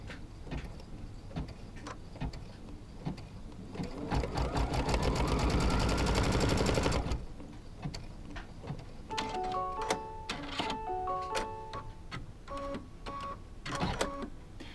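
A sewing machine stitches a quilt block seam in a rapid buzzing run of about three seconds, with lighter clicks and taps of handling before and after it, close by.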